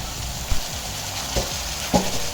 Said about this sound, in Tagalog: Bawang at sibuyas pagsasamahin ko na. Isunod na rin natin ang sugpo.